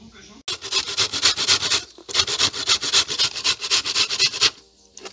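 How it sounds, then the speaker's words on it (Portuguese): A coconut grated by hand sounds as a close, rhythmic series of rasping, scraping strokes in steady bursts, with a short pause partway through. "Então vou fazer, vou ralar o coco"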